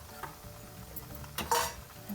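Curd paste stirred into a bowl of boiled Malabar spinach, giving soft scraping and clinking of a utensil against the bowl, with a louder clatter near the end.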